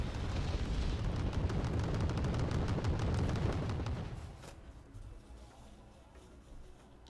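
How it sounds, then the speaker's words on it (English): Dense, continuous barrage of napalm and rocket artillery in the Wargame Red Dragon strategy game, loud rumbling blasts and crackling impacts overlapping for several seconds before thinning into scattered, quieter booms. "there's napalm artillery and normal rocket artillery being fired all over here"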